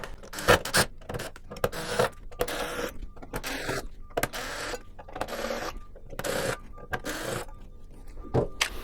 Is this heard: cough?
no